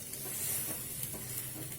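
Water hits fried masala in a hot pan for a veg egg curry, giving a loud, steady sizzle and hiss with bubbling patter, close up and without talk.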